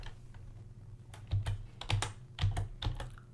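Someone types on a computer keyboard in quiet, irregular clusters of soft clicking keystrokes, close and faint, with no voices.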